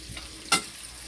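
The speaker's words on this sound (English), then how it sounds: "while that is frying, I'm going to be sauteing the remaining garlic" A steady hiss of meatballs frying in a pan fills the background, with a brief sharp clatter midway like a utensil striking the pan.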